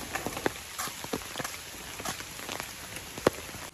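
Steady rain pattering on surfaces outdoors on the way to a village temple during Navratri, with a continuous hiss broken by scattered louder drops and splashes, no voices.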